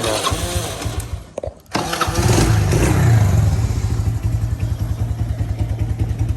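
A Kawasaki Mojave 110 ATV engine, fitted with a rewired starter, cranks briefly, cuts out, then catches and settles into a loud, close, chugging idle with a rapid steady pulse.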